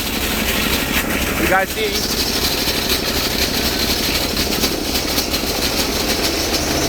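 A Bolens tractor engine runs steadily with its choke on and sticking, a continuous rumble throughout, while a person speaks briefly over it.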